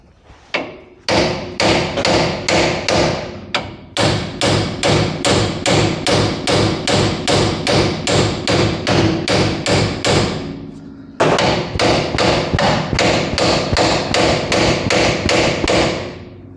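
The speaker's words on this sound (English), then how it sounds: "See if I could pop these ball joints free." Steady, rapid hammer blows on metal, knocking ball joints free on a 1958 Oldsmobile front end, loud and close, in a long run with a brief pause partway, continuing in an even rhythm.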